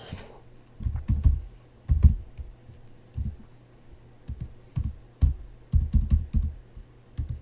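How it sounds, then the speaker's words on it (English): Bursts of clicky keystrokes from a computer keyboard, typed in short irregular runs with brief pauses, close and fairly quiet against a low steady hum, no voices. "I'm just going to type it in again."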